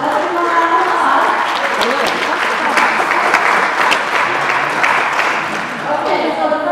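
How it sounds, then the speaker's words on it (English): A crowd claps steadily and fairly loudly for several seconds, a dense wash of hand claps without pause. "let's give them a round of applause."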